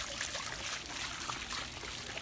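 Water trickles steadily into a garden fountain basin where Louisiana iris grow in the standing water, a close, continuous splashing wash with no talk over it.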